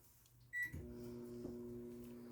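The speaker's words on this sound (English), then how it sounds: "pop that back in the microwave" A kitchen microwave oven starts with a beep and a door or button click, then settles into a steady, close, low hum that runs evenly to the end, quiet overall.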